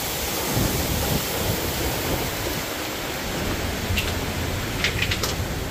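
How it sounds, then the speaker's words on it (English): Water crashing down at Tunnel Falls in northern Oregon, heard from the passage behind the falling curtain: a loud, steady roar of broadband rushing noise with no break and no talking. "We are gonna go to the backside of this waterfall."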